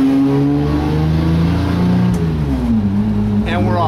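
A restored bus with a freshly adjusted shifter drives and accelerates, its engine drone loud and close, with the pitch rising through the gears. Someone speaks briefly over it.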